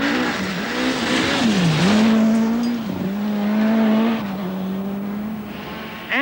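An Audi Quattro rally car in near-standard trim races along a stage at the 1985 1000 Lakes Rally, its engine loud and close, pitch rising and dipping through gear changes and revs as it passes continuously.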